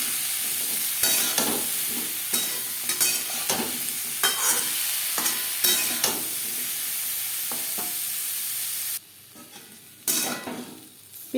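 Papaya fries lightly in a pan with salt and turmeric, a continuous close sizzle broken by repeated scraping stirs, then a brief hush before the frying resumes.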